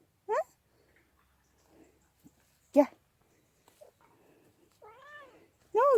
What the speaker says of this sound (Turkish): Ay kedicik de gelmiş buraya.